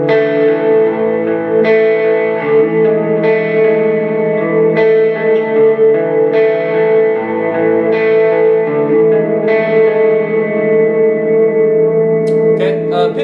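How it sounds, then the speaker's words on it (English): Sustained lead electric guitar line drenched in delay and reverb, notes blooming and trailing into echoing repeats, loud and continuous with chorus-like shimmer and mild distortion, played alone without talk. "So here I'm gonna put the effects on it, a little bit of delay, a little bit of reverb,"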